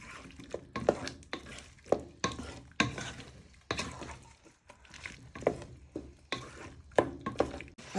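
Stirring smoked haddock chowder in a pot, with a spoon scraping and knocking against the bottom in a steady series of close, sharp strokes, no talking.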